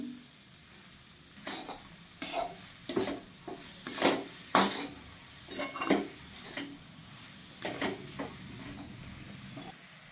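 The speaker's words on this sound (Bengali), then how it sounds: "এবার এটাকে আমি ভালোভাবে মিশিয়ে নিব।" Coconut filling stirred with a spoon in a pan after cardamom powder and toasted sesame go in, a series of scraping strokes in irregular bursts over a faint steady sizzle, close and moderately quiet.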